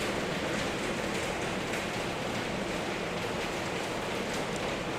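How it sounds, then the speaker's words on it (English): Hard, heavy rain pours down in a dense, unbroken hiss that holds steady and loud throughout, with no voices over it. "this is the hardest rain we've had"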